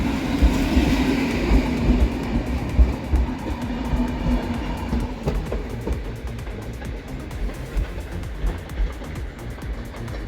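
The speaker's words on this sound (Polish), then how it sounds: "tym oto pociągiem będę jechał do stacji docelowej Jaworzyna Śląska" A passenger train in Poland bound for Jaworzyna Śląska rumbles loudly at the station, with heavy low wheel and carriage noise and faint rhythmic clatter that continues throughout.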